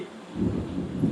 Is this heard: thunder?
yes